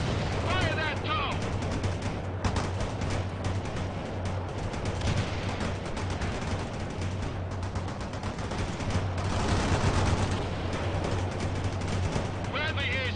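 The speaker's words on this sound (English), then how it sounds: "Bradley returning fire at hostile." Sustained gunfire from a Bradley armored vehicle in the strategy game World in Conflict, rapid bursts of shots running continuously under a battlefield din, with radio-style voices heard at the start and end.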